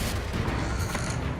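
A Confringo blasting curse explodes in Hogwarts Legacy as a loud, close, rumbling blast with crackling, crashing debris over a short span, and no voice is heard during it.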